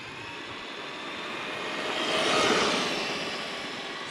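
A Traxxas Xmaxx 8s RC truck drives past on rubber tires, its motor making a steady high whine that swells to a peak midway and then eases off slightly, with no voices.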